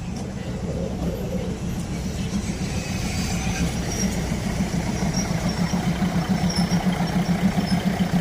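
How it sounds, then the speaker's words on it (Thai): A freight train rumbles past Ayutthaya railway station at night with a heavy low drone and rhythmic clatter of wagons, growing slightly louder toward the end. "มาชมขบวนรถสินค้าที่ 602 นะครับ ที่กำลังจะผ่านสถานีรถไฟอยุธยานะครับ"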